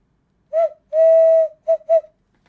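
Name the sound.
steam whistle noise imitated with hands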